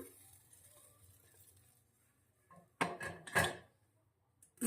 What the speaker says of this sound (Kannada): ಈ ಒಗ್ಗರಣೆನ ನಾವು ಮಾಡಿಟ್ಟಿರುವಂಥ ಸಾಂಬಾರಿಗೆ ಮಿಕ್ಸ್ ಕೊಡೋಣ.